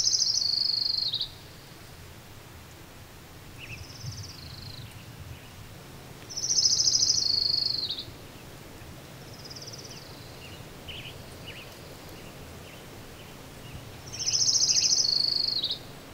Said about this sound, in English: the trill of an orange-crowned warbler